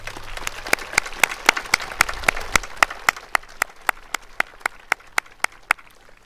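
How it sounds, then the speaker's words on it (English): Graduation ceremony audience applauding at a high school: a dense burst of clapping that thins over several seconds into a few loud, separate claps at a steady pace, with no voices over it. "If we can give them a round of applause."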